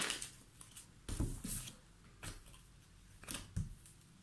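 Scissors snipping through paper or card, a few separate close crisp cuts spread irregularly across a quiet moment with no talking.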